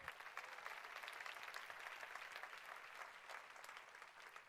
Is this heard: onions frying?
no